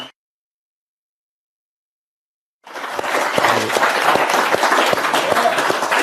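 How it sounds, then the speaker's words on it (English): After a stretch of near silence, an audience bursts into sustained applause for a guest, loud and dense until the end. "I just want to get just another big round of applause for John Carney for hanging out with us"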